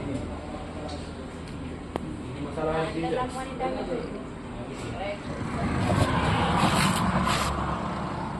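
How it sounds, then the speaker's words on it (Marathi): A vehicle cruises along a highway in Maharashtra with a continuous road and engine rumble that swells slightly toward the end, while someone talks over it. "केव्हापासून दोन अडीच वाजल्यापासून गाडी चालवतोय"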